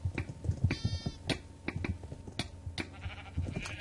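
Sheep bleating in the Minecraft video game, short game-style bleats arriving in quick bursts over busy, clicking gameplay sounds.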